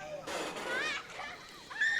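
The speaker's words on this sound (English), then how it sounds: "Screaming child in my song." A child's high, wavering shrieks ring out in a song over low swimming-pool ambience with splashing water, in two short bursts: a longer cry, then a brief one at the end.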